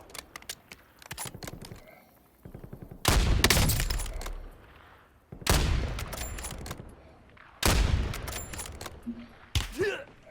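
In the battle royale game Warzone, bursts of rapid gunfire ring out close and loud in several volleys separated by quieter gaps with lighter clicking and distant shots.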